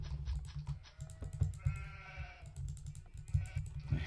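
Sheep bleating in the video game Age of Empires, a few short game calls amid steady low background hum and scattered keyboard clicks.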